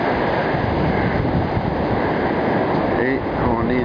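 Ocean surf rolls and breaks on Daytona Beach, Florida, in a steady loud wash mixed with heavy wind noise, and a faint voice shows up near the end.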